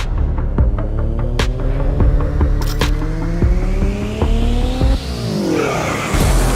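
Officially licensed race cars roar through a racing video game, engines revving and shifting up through gears in rising sweeps, with a pass-by and brief tire squeal, loud and continuous with no talking.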